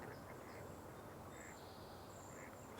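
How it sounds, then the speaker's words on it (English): A mallard duck quacks faintly in the distance at a marsh, a few soft calls barely rising above steady background noise. "Mallard."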